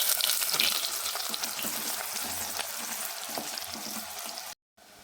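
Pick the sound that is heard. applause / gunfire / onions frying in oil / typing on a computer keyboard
onions frying in oil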